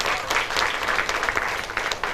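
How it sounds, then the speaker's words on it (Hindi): A seated audience at a ration kit distribution event breaks into loud, dense clapping that fills the whole moment without a pause, with no voices over it. "इनके लिए एक जोरदार ताली होनी चाहिए।"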